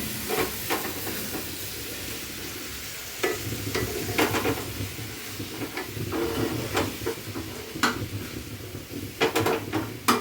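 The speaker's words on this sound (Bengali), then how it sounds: "এখন সব একসাথে নাড়াচাড়া করে দিই।" Watermelon rind fry with chopped green chilli is stirred in a pan. A steady sizzle and hiss carries under irregular scrapes and taps of a spatula against the pan, close by and with no voices.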